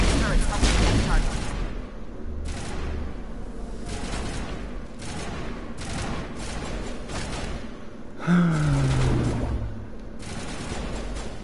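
Video game crossfire: a dense spread of rapid gunshots and thumping booms rolls on through the whole stretch, with a falling whine partway through, at moderate loudness under game voice lines.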